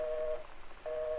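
Telephone in the video game Gone Home making odd electronic tones: two steady beeping bursts separated by a short gap, fairly quiet and heard alone.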